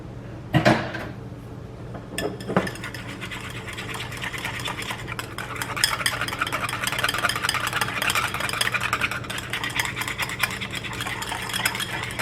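Pumpkin donut batter whisked with a whisk in a bowl: a couple of sharp clinks against the bowl, then a steady scraping, rattling rhythm of wire on the bowl continuing close and fairly loud to the end.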